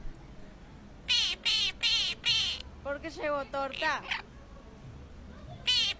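A parakeet gives a burst of loud, harsh, repeated squawking calls in quick succession, close by, with a pause in the middle where people talk, then one more call near the end.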